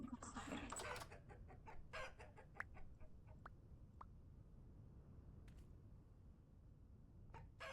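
Chickens cluck softly in the video game Vintage Story, faint calls scattered over a steady background hiss, with a brief burst of louder clatter at the start.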